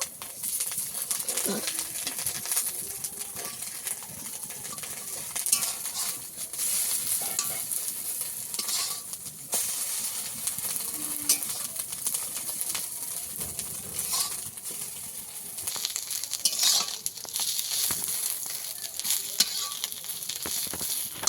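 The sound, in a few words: egg pieces frying in oil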